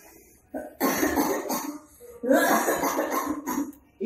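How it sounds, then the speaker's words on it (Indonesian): Two loud, harsh bursts of coughing from a woman, each a rough fit of several hacks, close by with a short pause between them. "tiba-tiba ibunya batuk yang cukup keras"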